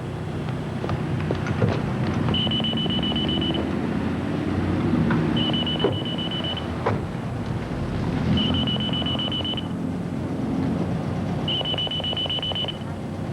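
Four short, evenly spaced electronic beeps from the PayJet payment device in a 1988 TV commercial, each about a second long and sounding over busy background ambience with no speech.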